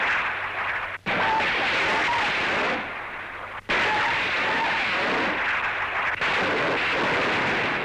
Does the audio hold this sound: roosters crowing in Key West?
no